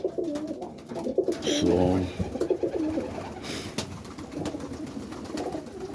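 Boston roller pigeons coo in a loft in soft, repeated bursts close by, with wing flaps and some rustling, and someone speaks briefly.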